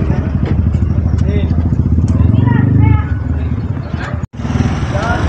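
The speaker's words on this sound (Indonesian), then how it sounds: "kendaraan sudah mulai berdatangan nih, baik mobil maupun motor di depan SMP Sukaraja nih" Cars and motorbikes arrive in front of a junior high school before a language-month competition, with a close, continuous engine rumble that eases off partway through and faint voices mixed in.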